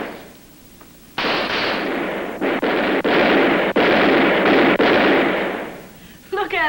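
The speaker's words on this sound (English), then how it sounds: "They're shooting back." A film shootout erupts in sustained, loud gunfire. A dense, rolling roar of shots is broken by brief dips and sharp cracks, then fades near the end.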